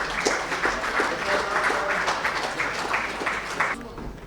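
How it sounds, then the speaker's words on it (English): Audience applause at a CSR awards ceremony, a steady, moderately loud patter of clapping filling the hall, with voices faintly underneath. "Congratulations and a huge round of applause to you, sir"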